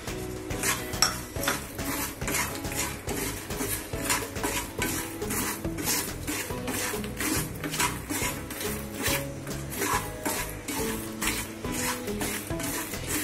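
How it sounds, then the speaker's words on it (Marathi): Fox nuts (makhana) are dry-roasted in salt in a pan and stirred constantly, giving a rhythmic, close scraping and rattling of the nuts and salt against the metal with a faint sizzle underneath. "या मिठामध्ये आपण ह्याला भाजून घेऊया"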